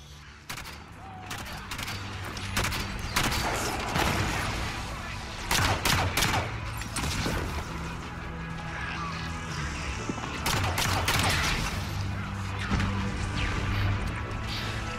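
Gunfire pops and rattles in Halo 5: Guardians as loud bursts amid explosions and combat clatter over a dense game soundtrack, with some talk mixed in.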